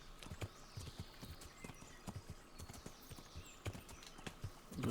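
Hooves of a ridden horse clip-clop in Kingdom Come: Deliverance, a quick irregular run of soft close thuds over a quiet outdoor bed, steady to the end.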